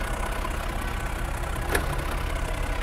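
A Mercedes-Benz E63 AMG engine idles at standstill, a steady, fairly loud low rumble with no revving, holding even throughout apart from a brief faint click.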